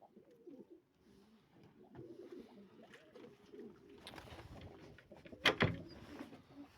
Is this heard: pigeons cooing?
yes